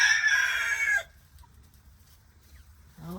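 A naked neck silkie rooster crows loudly up close for about a second, the call dropping away to quiet farmyard background before a faint start of another call at the end.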